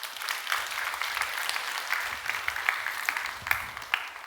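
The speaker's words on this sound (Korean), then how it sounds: "박수 한번 해주시기 바랍니다" Congregation applauding at an early-morning church service: a moderate, fairly soft burst of clapping from the room, steady and continuous with a few louder claps, somewhat distant.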